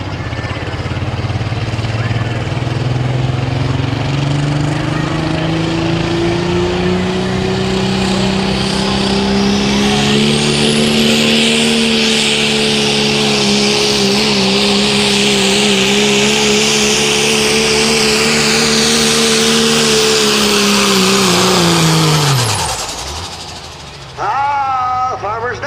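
A diesel 4x4 pickup truck's engine roars at sustained high revs for a long stretch during a truck pull, pitch climbing slightly then dropping off abruptly near the end.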